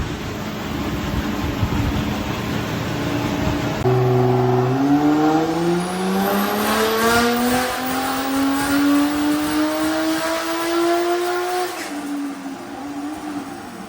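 Toyota Corolla running on a roller dyno: a loud engine drone that steps up sharply and climbs steadily through the revs before dropping off near the end, with no talk.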